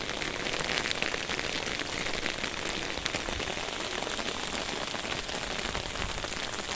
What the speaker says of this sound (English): Hail is falling everywhere.